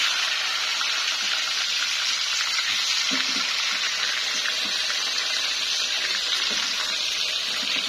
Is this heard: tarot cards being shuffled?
no